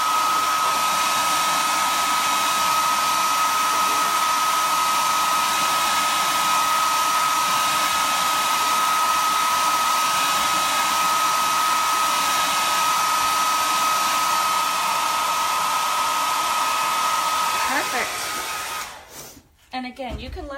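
A hair dryer on its low setting blows steadily over chalk paint on an Easter lantern, a loud, even whir with a fixed tone that runs without a break before it cuts off and sputters near the end.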